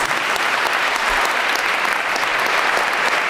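A live concert audience applauds a musician with sustained, dense, loud clapping that holds evenly from start to finish.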